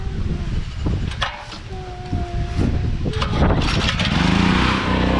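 A portable generator is started and runs at a steady, fairly loud drone beside an outdoor goat shelter build site, with brief clatter and a voice in the background.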